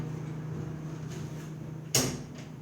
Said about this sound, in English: Wind closed the door.